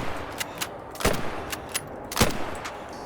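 Rapid pump-action rifle fire in theHunter: Call of the Wild, several sharp shots in quick succession, loud and close with short decays and no talking.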